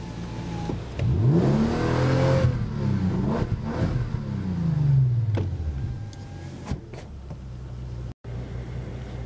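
Bentley Continental Supersports engine heard from inside the cabin, revving up in a rising, sweeping roar that peaks and falls back toward idle, then a second shorter blip, loud and close with no voices.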